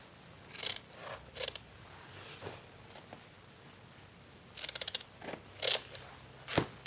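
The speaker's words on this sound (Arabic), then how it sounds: "هشق بقى شق كده صغير اهي من عندي العلامة اهي" Scissors snip a small slit into pillow fabric, a handful of crisp, close cutting strokes in short bursts separated by quiet pauses.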